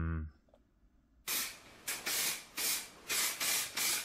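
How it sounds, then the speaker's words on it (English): An aerosol can sprays in a series of loud hissing bursts, about six short blasts with brief pauses between them. "the way you're spraying, you're spraying too close. You're just chucking the paint on."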